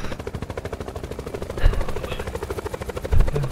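A helicopter drones close in an online shooter game, its steady, rapid rotor chop loud throughout, with a couple of heavy thumps that sound like gunfire.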